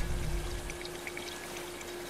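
Water pours in a steady, soft hissing stream from a helitanker over a wildfire zone in Life is Strange 2, faint and continuous under a constant low hum, with no talking.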